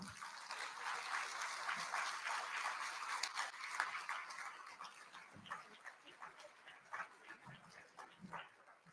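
Audience applause greeting a keynote speaker at the 39th Annual Frank Church Conference, steady clapping from a crowd in a hall, moderately faint and continuing for several seconds.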